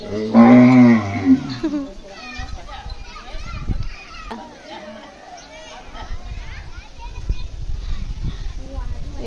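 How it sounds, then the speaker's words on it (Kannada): A loud, drawn-out moo from an ox at the Kara Hunnime village festival opens the clip, followed by ongoing crowd chatter and children's voices in the background. "ಇದು ನೋಡ್ರಿ ನಮ್ದ ನೋಡ್ರಿ ಇದು ಎತ್ತು"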